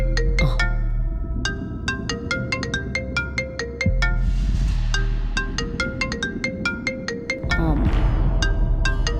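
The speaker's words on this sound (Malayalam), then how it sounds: "എപ്പോ മണിമാലയുടെ കാര്യം പറഞ്ഞാലും ഈ നരിയുടെ ഫോൺ വരും." An incoming-call ringtone on a phone plays alone, a loud repeating electronic melody of bright beeping tones in steady rhythmic bursts over a low background hum.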